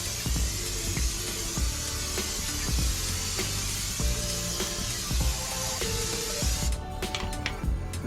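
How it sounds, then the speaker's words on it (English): Spray butter hisses in a long continuous spray onto smoked chicken wings on a Char-Griller Gravity 98, with light tapping and clatter throughout. "I'm gonna go ahead and spray it with some spray butter."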